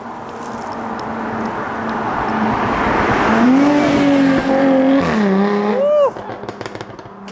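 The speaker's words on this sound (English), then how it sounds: "before I was really interrupted by a V6 F-Type convertible" A Jaguar F-Type convertible with a V6 engine drives past, its loud exhaust note rising and sweeping in pitch as it nears, then dropping sharply as it pulls away, with a voice talking in the background.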